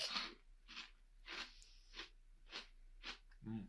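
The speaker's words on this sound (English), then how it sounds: "Hear that crunch?" Crunching bites into barbecue pork rinds, about six crisp crunches in a steady rhythm, close and fairly faint, with a brief voice near the end.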